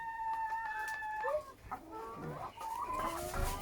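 Startled laying hens in a coop cluck and squawk in agitated bursts, with a rooster-like call, loud and close.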